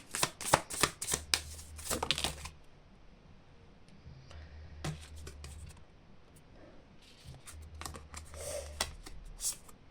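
Tarot cards are shuffled for a reading in close, crisp bursts of riffling and flicking, separated by short pauses and a low hum.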